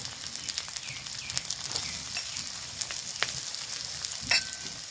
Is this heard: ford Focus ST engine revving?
no